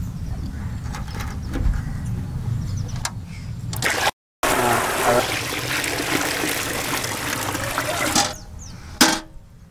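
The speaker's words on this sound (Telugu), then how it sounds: "మొదట 20 లీటర్ల నీళ్ళు ఇందులో పోసుకోవాలి." Twenty litres of water pour into a container for a sugarcane seed treatment, a continuous trickling splash with short breaks and a brief gap midway, ending with a sharper splash.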